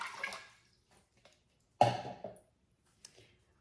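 Two and a quarter cups of water pour into an Instant Pot as a brief splashing gush with a few softer drips before and after, close by.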